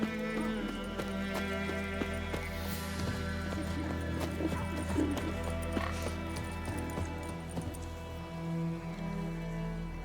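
A horse's hooves clip-clop at a steady walking rhythm in the game The Witcher 3, close and moderately loud over soft rain and a low ambient drone.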